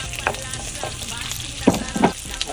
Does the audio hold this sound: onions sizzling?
yes